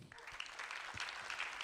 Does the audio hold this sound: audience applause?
yes